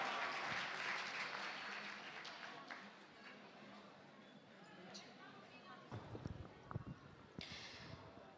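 An audience claps at a Yalda night poetry gathering, a burst of applause at the start that fades into murmured voices, with a few soft knocks later.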